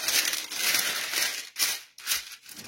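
Parchment paper crinkles and rustles in a cake mould as it is handled, a fairly close, continuous papery crackle with short pauses and no talk.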